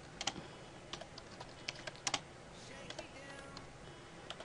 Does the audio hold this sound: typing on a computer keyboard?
yes